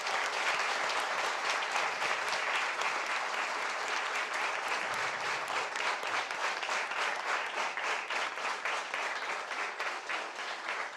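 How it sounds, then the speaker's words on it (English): Sustained, dense applause from a large audience of schoolchildren after a tabla and flute concert, steady and loud throughout with no talking over it. "I think they need a big round of applause"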